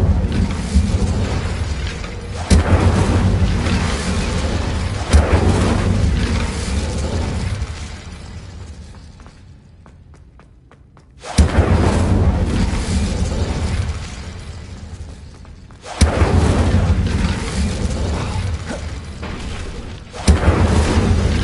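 Incendio fire spells in Hogwarts Legacy go off in repeated loud, crackling blasts, several bursts separated by short gaps, with one quiet stretch in the middle.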